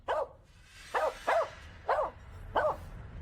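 A dog barks five times in short, sharp bursts, the first alone and then in two quick pairs, loud and close with no talk over it.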